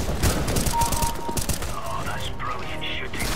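Rapid gunfire in the game CS:GO rattles in quick bursts through the first half, with mechanical clicks and game effects trailing after.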